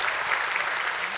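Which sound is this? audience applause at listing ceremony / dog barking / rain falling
audience applause at listing ceremony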